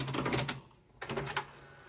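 The cassette deck on a Cobra boombox pops open with two quick clattering mechanical bursts separated by a brief pause, close up and moderately loud.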